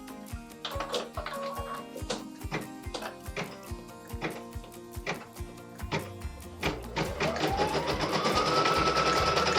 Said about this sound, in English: Machine step 23 is stitching the placement line for the watering can embroidery leather.